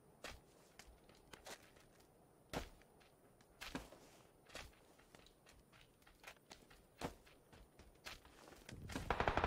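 Sharp gunshots from the video game PUBG on Xbox One crack out one by one at irregular intervals, some near and loud, others fainter, over a quiet background with a rising rumble at the very end.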